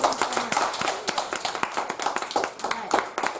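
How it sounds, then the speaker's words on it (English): Audience clapping for a student named Elliot after his independent school project presentation, a brisk patter of hand claps at close range, uneven and moderately loud, with voices murmuring underneath. "let's give Elliot a big round of applause"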